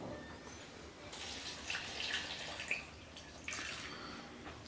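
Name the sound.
water poured into jug for mango peach juice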